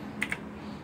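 Two quick, crisp key clicks sound on a Razer BlackWidow Ultimate 2016 mechanical keyboard, close and distinct over a quiet room hum.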